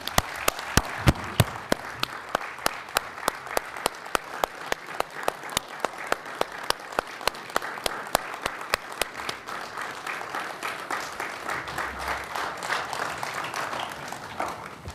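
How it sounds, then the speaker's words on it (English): An audience claps for a lecturer at a higher-education session, steady applause that is fairly quiet and even, fading slightly toward the end. "he deserves our greatest applause"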